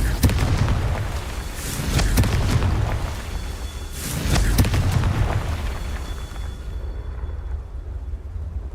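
Repeated fiery blasts from the Confringo spell in Hogwarts Legacy at Rookwood Castle, with heavy booming explosions around the two- and four-second marks over a constant rumbling bed of game ambience, fading toward the end.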